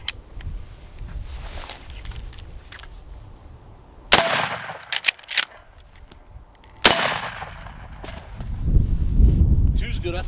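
Two sharp, loud gunshots ring out against a ballistic armor plate, each with a metallic clang and a short echoing tail, separated by a few seconds, with people talking before and after.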